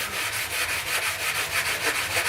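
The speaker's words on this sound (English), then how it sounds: "So get a nice fret sanding block here, and you just dust over it." Rhythmic back-and-forth strokes of a fret sanding block rasp against metal guitar frets, close and steady, about a dozen quick passes in a row.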